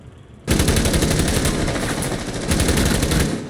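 Rapid automatic gunfire from the Rainbow Six Siege PC game, a sustained loud burst of close shots with a brief second surge partway through, no talking over it.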